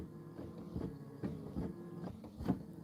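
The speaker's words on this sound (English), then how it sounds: "we're stitching the pom-pom" An embroidery machine stitches a pom-pom design on a snowman pillow block, a faint, rapid rhythmic thumping with a low hum, steady and close, with no talking.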